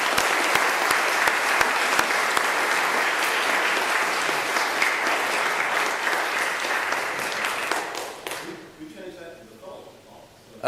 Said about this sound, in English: If I could just have one more round of applause for our Eagle Scouts and their families.